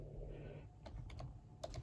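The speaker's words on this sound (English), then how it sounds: "as I type it in my keyboard" Keys tapped on a computer keyboard, a few scattered clicks and a short quick run, faint and close against a low background hum.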